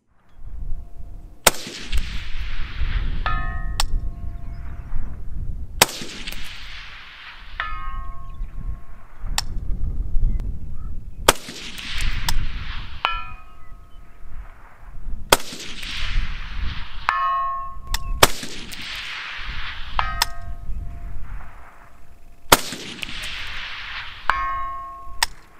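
A rifle topped with a Vortex Razor HD Gen 2-E 1-6x24 optic fires 62 grain rounds at steel targets at intermediate range. About seven sharp shots come a few seconds apart, each followed by a clear metallic ring from the hit.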